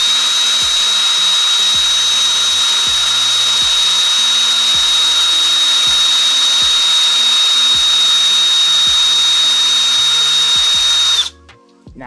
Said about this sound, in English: I just install my tire on the socket and grab a piece of sandpaper as coarse as you can get,